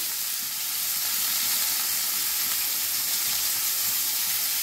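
Vegetables for Bengali shukto fry in a pan with a loud, dense, continuous sizzle and steamy hiss, close and steady from start to finish, with no talk.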